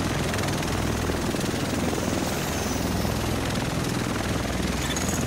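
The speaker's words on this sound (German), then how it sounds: "Der Rest von uns sitzt in diesem Heli." A helicopter in the video game The Division, its rotor and engine thrumming steadily and loudly throughout, close and constant with almost no speech.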